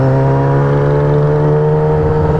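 A modified Yamaha R6 motorcycle engine runs loud and close, holding a steady high-pitched whine with strong harmonic tones throughout.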